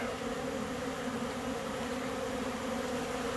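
A dense swarm of honey bees robbing an uncapped frame of nectar, their steady buzzing hum filling the air close by and continuously, with no voices.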